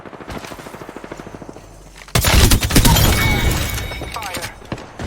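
Rapid automatic gunfire in the Apex Legends video game, a fast rhythmic stream of shots, then a loud burst of overlapping gunfire and impacts that fills the soundscape and slowly thins out.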